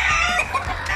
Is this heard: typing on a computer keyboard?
no